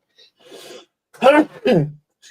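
A quick, sharp sneeze-like burst, followed closely by a second abrupt breathy outburst, with soft rasping noises just before.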